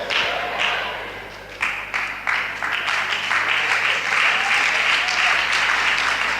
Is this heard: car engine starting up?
no